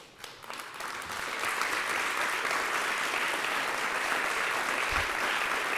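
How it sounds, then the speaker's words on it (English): An audience at an arts and humanities awards event applauds past award winners, a steady wash of clapping that swells within the first second and holds evenly at moderate distance. "Would past award winners, would you mind standing up, please,"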